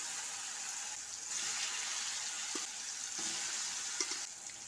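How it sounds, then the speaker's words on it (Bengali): Mashed eggplant, potato and tomato fry in oil with nigella seeds, giving a quiet, even sizzle with light stirring scrapes and small pops, heard alone without speech. "কালো জিরেটা ফুটে উঠলে এবার এর মধ্যে ম্যাশ করে রাখা বেগুন, আলু ও টমেটোটা দিয়ে দিচ্ছি।"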